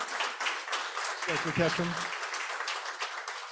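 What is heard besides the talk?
audience applause for Dr. Ketchum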